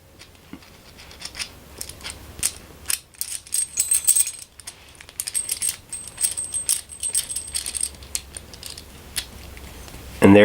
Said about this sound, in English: You can tighten or loosen the wing nut